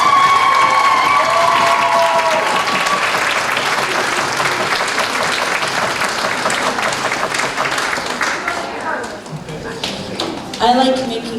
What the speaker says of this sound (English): can I please get a big hand for my judges?